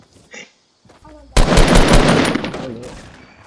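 Rapid video game gunfire during a shootout, a loud sustained burst of automatic shots starting abruptly and rattling on for about two seconds, with brief talk before it.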